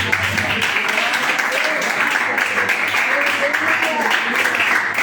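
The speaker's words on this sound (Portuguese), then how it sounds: "Aplauda ao Senhor Jesus." A church congregation claps steadily and densely for Jesus, a loud continuous wash of applause with a low hum underneath and no break for the whole stretch.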